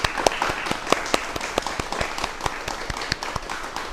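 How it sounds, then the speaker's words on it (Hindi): An audience at an NCC youth programme applauds, a small crowd's sharp, uneven claps rattling steadily, fairly close. "उनका एक बार जोरदार धन्यवाद करेंगे तालियों के साथ"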